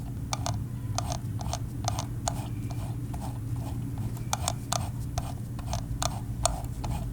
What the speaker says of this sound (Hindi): scroll wheel